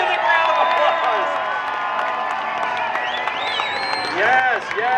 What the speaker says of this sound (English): Let's welcome the monster trucks to the block. Give a round of applause.